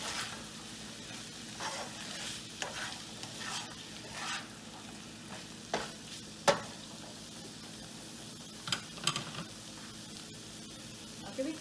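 Vegetable cheesy masala pasta is mixed in a hot pan with a spatula, making a continuous quiet sizzle broken by irregular scraping strokes and a few sharper knocks.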